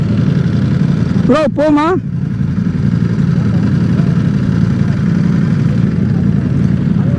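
A Ducati V4S motorcycle fitted with a CS Racing exhaust idles with a loud, steady low rumble; someone briefly speaks over it early on, then the engine carries on alone.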